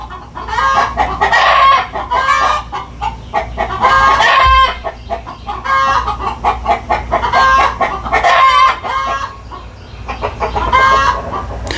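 A rooster clucking loudly and close by in repeated bursts, mimicking a hen's cackle in a rhythmic, insistent series that pauses briefly between calls.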